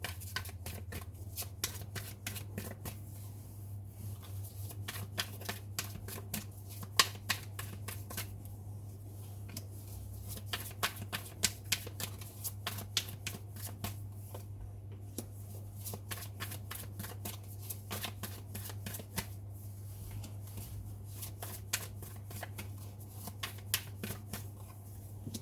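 Tarot cards are shuffled continuously at close range, a quiet, steady run of riffling flicks and slaps lasting about twenty-five seconds over a low background hum.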